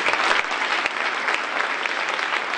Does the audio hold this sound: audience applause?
yes